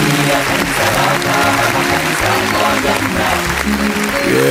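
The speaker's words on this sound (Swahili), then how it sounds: "hiyo ni makofi ya Kaskalen kwa sababu ya kazi nzuri aliweza kufanya" A studio audience gives sustained applause for Kaskalen, dense steady clapping that fills the space evenly from start to finish, with some murmuring mixed in.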